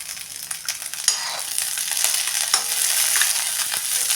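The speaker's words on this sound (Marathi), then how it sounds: "ही मिरची चांगली भाजेपर्यंत आपण अशी परतत राहायचं आहे" Green chillies and cumin seeds stir-fried in a pan for a village-style chilli kharda side dish, a loud, steady crackling sizzle with scattered sharp pops and spatula scrapes throughout.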